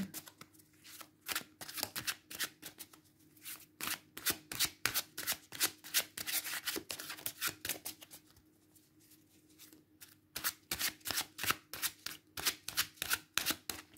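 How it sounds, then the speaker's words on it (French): Tarot cards from the True Black Tarot deck riffled and shuffled close up, a long run of quick soft flicks broken by a brief pause before more shuffling, with no voices. "tirer 3 cartes pour vous accompagner, groupe numéro 3"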